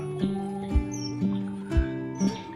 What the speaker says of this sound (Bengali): একটা পাখি যদি ডাকছে না সেটাও পুরো ক্লিয়ার শোনা যাচ্ছে সুন্দর করে